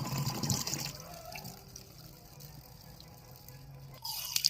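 Tap water runs strongly in a home kitchen, a steady rushing flow that swells louder at the start and end, heard close with no talking.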